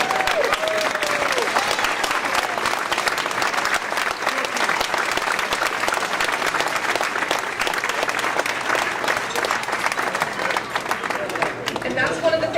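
Sustained audience applause at a 40 Under 40 awards event, a thick continuous wash of clapping from a large crowd with murmured voices underneath.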